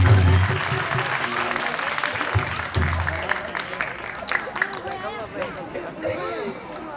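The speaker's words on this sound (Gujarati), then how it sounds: "તેની માટે જોરદાર તાળીઓથી વધાવો." An audience at a stage event claps and cheers to welcome the organizer, a dense, continuous wash of applause and crowd noise with voices mixed in throughout.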